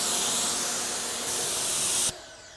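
A steady, loud hiss of water spray rinsing down a BMW 535i GT runs continuously for about two seconds, then cuts off abruptly to a quieter background wash.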